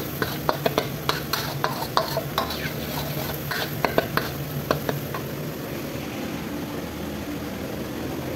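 Chicken meat is stirred into spice paste frying in a pot, with repeated scraping and clinking of a utensil against the pan over a steady low sizzle, close up, with no talking.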